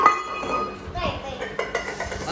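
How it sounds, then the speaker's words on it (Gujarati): Metal tiffin boxes fall and clatter on a home floor, a short burst of clinks and rattles with a few sharper knocks close by, followed by scattered clinking. "પગ ઉપર ટિફિન ડબલા પડાયેલા"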